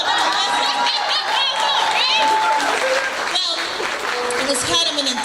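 Clapping from a gala audience for a poet, a continuous round of applause mixed with crowd chatter, cheers and laughter over it.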